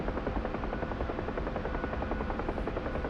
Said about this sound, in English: I can see helicopters over there